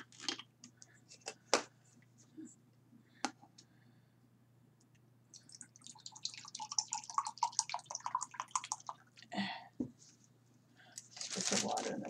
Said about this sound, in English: Put some water in the glass so I can clean my brush.